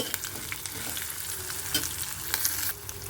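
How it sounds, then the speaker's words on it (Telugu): Spoon stirring turmeric into tamarind rice frying in a pan, with a steady close sizzle and scraping stirs throughout. "పసుపు వేస్తున్నానండి సరే తిప్పుతాను"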